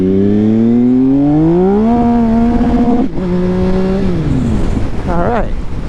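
A motorcycle on fresh new tires revs hard through rising gears, its engine note climbing, dropping at a shift and climbing again, loud and close, ending in a few quick throttle blips.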